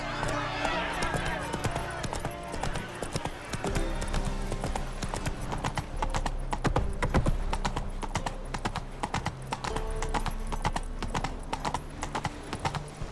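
Horse hooves clip-clop steadily through a video game world of The Witcher 3, a close, continuous rhythmic trot with a brief voice near the start.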